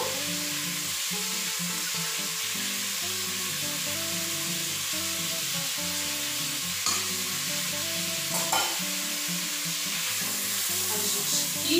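Onion and garlic fry in a pan with a constant loud sizzle, while stirring adds a repeated scraping rhythm throughout and a few sharper clinks near the end.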